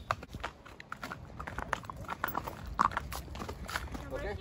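Hooves of a horse clip-clop on a road in hilly Nuwara Eliya, Sri Lanka, faint and uneven, with several sharper knocks mixed among low rumbling and a voice talking nearby.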